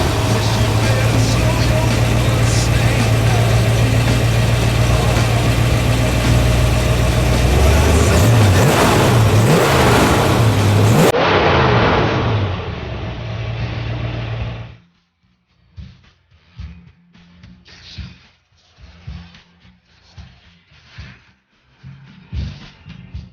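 A 1966 Ford Mustang GT V8 with automatic transmission runs with a loud steady engine rumble and some revving, then cuts off abruptly to quieter sounds with intermittent speech.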